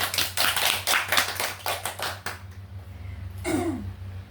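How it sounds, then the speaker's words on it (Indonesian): Short burst of classroom applause from students, many hands clapping quickly for about two seconds before fading out, followed by a brief faint squeak and low background hum. "Give applause."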